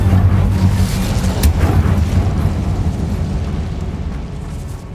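An Incendio fire spell cast in Hogwarts Legacy gives a burst of fiery whooshing and roaring, loud at first and then slowly dying away with a low rumble, with no talk.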